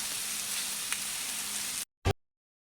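Sausages frying in a pan, a steady close sizzle and crackle that cuts out abruptly, followed by a short burst of noise and then silence.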